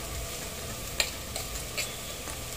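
Sliced onions with salt sizzle steadily in a pot while a spoon stirs them, a soft continuous fry broken by a few light scraping clinks, quiet and close with no talking.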